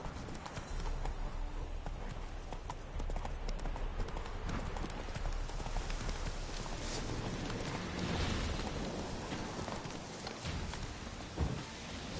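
Roach, a horse in a video game, gallops with dense, continuous hoofbeats that stay loud and rapid throughout, with a brief snort or whinny near the end.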